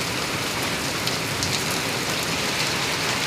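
Heavy late-morning rain pouring steadily outside a house gate, a dense, even hiss of drops on surfaces with no voices, close and loud throughout.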